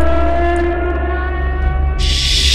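Siren Head's droning siren wail in a horror video game set in Russia, a sustained layered tonal howl that fills the clip, with a harsh hissy burst joining near the end.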